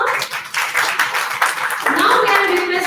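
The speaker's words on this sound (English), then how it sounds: "A big round of applause for sir." Scattered clapping from a summit audience, uneven at first and building into steadier applause, with a voice briefly speaking over it.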